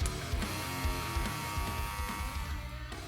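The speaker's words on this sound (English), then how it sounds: "I'm going to go in with my clipper open, and we're going to fade down" Hair clippers with a zero guard buzz steadily and closely during a barbershop fade. The motor hum stays loud and continuous, with slight wavering as the clipper moves through the hair.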